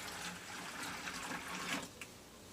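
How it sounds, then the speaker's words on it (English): Four cups of water are poured over almonds, a steady close splashing stream into a cup, quiet and without talk. "we're gonna add additionally 4 cups of water"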